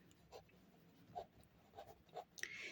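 A pen scratches across paper in a school exercise notebook, soft intermittent strokes with short pauses between them, faint and close, and no voices over it.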